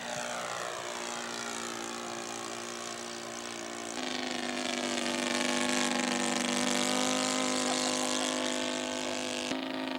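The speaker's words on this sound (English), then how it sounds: "Dick Skoglund in his see-through Eindecker" Steady, droning buzz of a see-through scale model Eindecker airplane's engine flying overhead at a scale aircraft show, rising and shifting in pitch as it passes, continuous and fairly loud with no voices.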